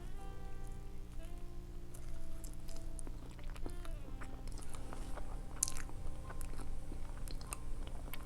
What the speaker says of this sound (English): I suppose I should get a quick bite of this, huh? Cheesecake is so super rich.